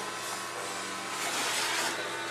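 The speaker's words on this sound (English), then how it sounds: "You turn the vacuum on." A vacuum forming machine's pump runs steadily during prosthetics fabrication, a continuous close, even broadband whirring hum with no talking over it.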